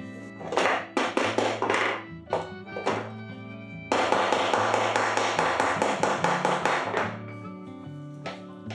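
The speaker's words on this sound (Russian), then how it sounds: "и с помощью молотка забиваю его туда" A hammer taps a small bolt into the hole of a larger bolt in a workshop, with a run of sharp metallic knocks, first spaced and then in a quick, steady series, close and ringing.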